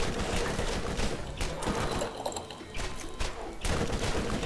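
Rapid gunfire in the co-op shooter game Borderlands, dense bursts of overlapping shots and impacts crackling continuously, loud and busy, with a brief lull in the middle before the firing resumes.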